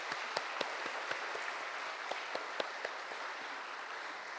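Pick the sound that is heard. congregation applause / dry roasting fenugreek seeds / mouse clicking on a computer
congregation applause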